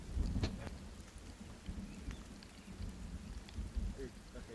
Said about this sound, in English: that thunder made me actually think it was thundering outside.